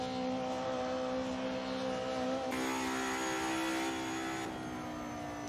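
Race car engine in the Assetto Corsa video game on the Nordschleife, a steady high whining drone with engine pitch stepping between gears, heard alone.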